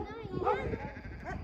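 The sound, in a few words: lamb bleating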